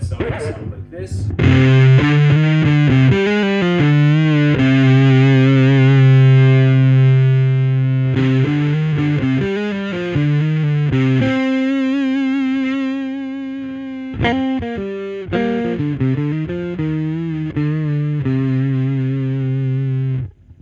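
An electric guitar plays through a Leonids fuzz pedal at 100% wet, with thick, saturated sustained notes and chords in several phrases that end abruptly; someone talks briefly between phrases.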